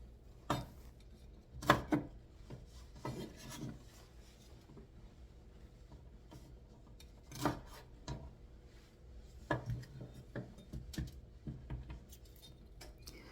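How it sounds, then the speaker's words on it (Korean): A knife cuts vegetables into thin julienne strips on a cutting board, giving sharp, uneven clicks and taps in quick clusters. They sound close and clear over a quiet background. "이렇게 채를 썰을 겁니다."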